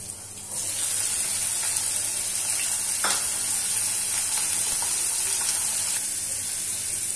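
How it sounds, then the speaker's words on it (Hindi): Onions, grated ginger and garlic fry in hot oil with asafoetida and carajwain, a loud continuous sizzling hiss that swells early on, with a few stirring clicks and crackles and no talking. "अब इन्हें अच्छे से हम फ्राई कर लेंगे।"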